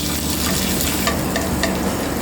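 Hot curry-leaf tadka sizzling and crackling steadily as it is poured into Andhra-style coconut chutney, with sharper pops scattered through a continuous fry hiss and no voices.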